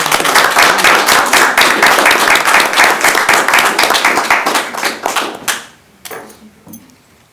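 A small group applauds a student at a school committee meeting, distinct claps in a lively patter that thin out and stop, leaving a few faint sounds afterward.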